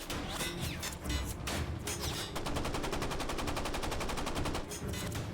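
Escort warships open fire at night on a submarine in wartime, rapid bursts of gunfire crackling loud and steady, with a dense rattling stretch of regular shots in the middle.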